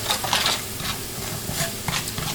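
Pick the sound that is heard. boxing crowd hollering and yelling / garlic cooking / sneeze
garlic cooking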